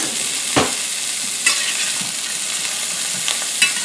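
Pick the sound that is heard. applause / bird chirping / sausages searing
sausages searing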